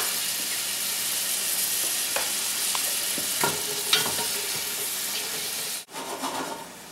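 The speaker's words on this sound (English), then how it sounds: "let's add onions to hot oil and let them cook for a little while on medium high" Onions sizzle and fry steadily in hot oil in a pan over medium-high heat, a continuous close crackle with a few light clicks of utensils and a brief cut near the end.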